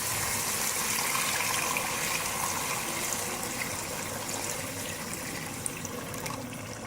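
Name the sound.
water poured into pot of frying moong dal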